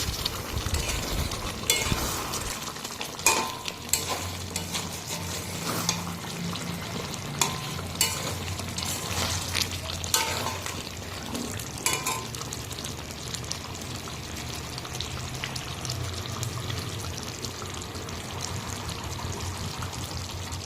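Meat stirred and sizzling in a pan on a home kitchen stove, steady frying crackle with scraping stirs and a few sharper clacks of the spoon, close and moderately loud, no talk.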